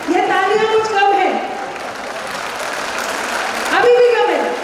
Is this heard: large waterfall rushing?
no